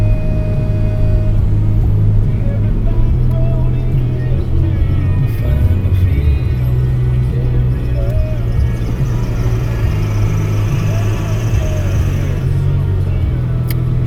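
Party bus from Winona passing on a town street: a loud, steady low engine rumble lasting throughout, with voices talking nearby.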